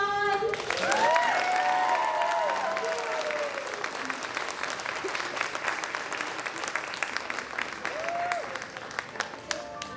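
An audience at a Junior Miss pageant gives the contestants on stage sustained applause, with whistles and cheers rising early on and again near the end before the clapping thins out.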